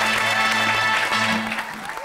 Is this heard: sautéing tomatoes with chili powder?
no